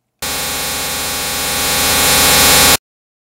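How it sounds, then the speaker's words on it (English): A broadband noise test track plays at full volume, a loud, harsh, continuous hiss that starts abruptly, swells slightly louder toward the end and then cuts off sharply into silence. "I set the noise track's volume to minus 20 because when played at full volume, it's really irritating to hear."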